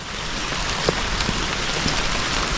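Steady rain pours down in a dense, continuous hiss, with occasional louder drops tapping nearby.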